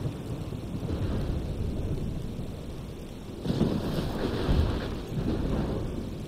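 A stormy scene from the video game Life is Strange: steady wind and rain-like rush, then a heavier rumbling swell of thunder midway through. Loud and continuous, with no speech.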